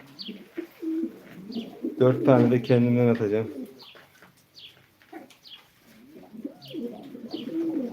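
Pigeons coo intermittently at a live pigeon auction, with soft, repeated calls close by. Someone talks over them, and a burst of louder voice fills the middle.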